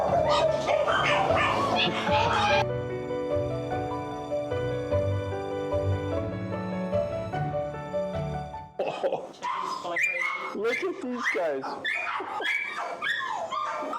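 Shelter puppies yip and whimper in short bursts near the end, after a stretch of steady music, with a voice speaking over them.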